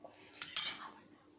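A spoon clinks against a bowl while stirring salt into a glycerin mixture, with a couple of quick close metallic scrapes and taps, then quieter.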